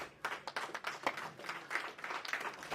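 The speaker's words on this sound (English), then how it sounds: "A round of applause" A small audience at a wealth and real estate event claps for Dr. Sunday Adewale, with faint, scattered claps coming in uneven bursts and sounding thin and somewhat distant.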